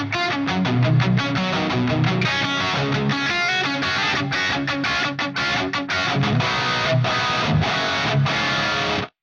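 An electric guitar runs through gated reverb on an Axe Fx III, playing a dense run of distorted picked notes with a washy tail that holds steady, then cuts off abruptly at the end.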